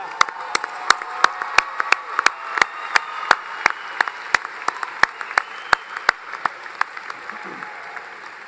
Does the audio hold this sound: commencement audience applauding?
yes